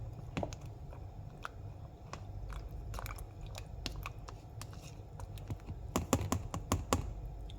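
Close, crisp crunching and biting of homemade cucumber in vinegar, with irregular sharp clicks that bunch into a rapid flurry near the end over a low background hum, and no talking.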